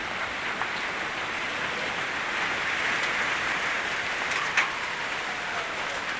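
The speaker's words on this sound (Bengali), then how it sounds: "বৃষ্টি শুরু হয়ে গেছে, বৃষ্টি কিন্তু অলরেডি শুরু হয়ে গেছে।" Rain from a Kalbaishakhi storm in Kishoreganj, Bangladesh: a steady, dense hiss of rainfall at even loudness, with a few faint taps and a brief thump, no voices.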